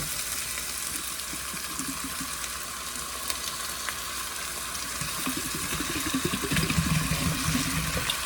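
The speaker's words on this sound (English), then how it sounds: "So I'm going to go ahead and add my potatoes in there." Potatoes from a jar tip into a hot pot of softened onions for creamy potato soup, setting off a steady, close sizzle and frying hiss that swells and bubbles louder in the last few seconds, with no talking.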